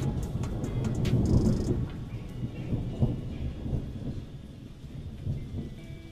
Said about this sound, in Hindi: दो दिन से लगातार बारिश हो रही है